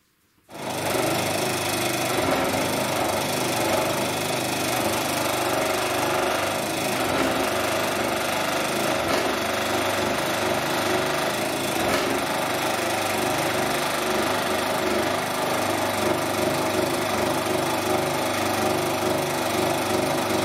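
Wood router milling finger joints into a workpiece, a loud continuous high-pitched whine that starts abruptly and holds steady throughout without any speech.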